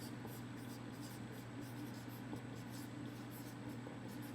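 Pen scratching as notes are written by hand, faint soft strokes over a steady background hum in a quiet room.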